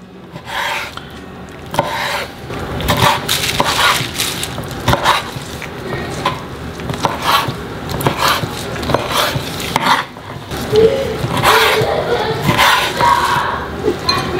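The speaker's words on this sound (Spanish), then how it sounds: "Yo los voy a cortar en cuadritos." A knife chops chiles into small squares on a board, giving irregular clusters of sharp taps and scraping rasps, fairly close and loud, with brief pauses between bursts and no talking.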